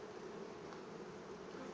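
Honeybees buzz in a steady, faint drone, clustered together in a ball near a hive, a continuous hum with no voices.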